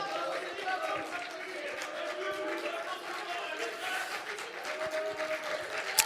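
Audience clapping at a public debate on nuclear power in Caen, moderately dense applause mixed with crowd murmur and a voice speaking over it, fairly even throughout.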